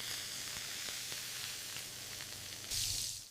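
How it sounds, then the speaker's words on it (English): A steady hiss of black jackfruit sizzling as it slow cooks, with soft crackles throughout and a brief louder burst of sizzle near the end. "Listen to that sizzle."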